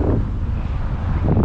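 Strong wind buffeting the microphone, a low rumbling roar that stays heavy and continuous for the whole moment, with no voices.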